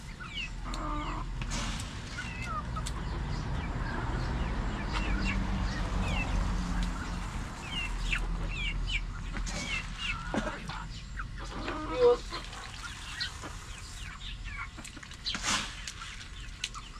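Backyard chickens cluck and squawk in scattered bursts over a steady low background rumble, fairly close and moderately loud.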